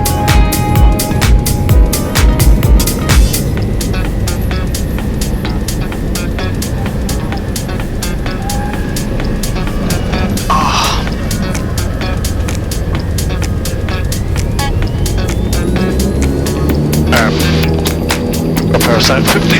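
A Cessna 172S departing in gusty wind, a continuous loud engine drone with wind buffeting and rattling throughout, close-up in the cabin, with brief radio and voice chatter over it.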